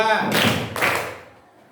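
Students in a classroom clap in unison, two sharp group claps in quick succession, the second slightly softer, then the sound fades into room noise.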